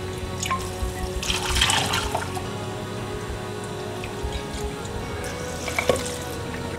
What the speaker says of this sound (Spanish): Vamos a enjuagarla con agua fría para detener la cocción